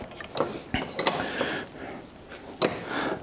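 Metal exhaust manifold parts for a Mk2 Jaguar squeezed together in a vise, heard as a few close creaks and sharp clicks and ratcheting ticks against a quiet room, no voices.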